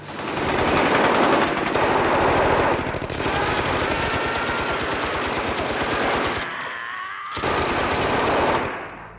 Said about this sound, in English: Barzini's goons jump out to gun him down from every direction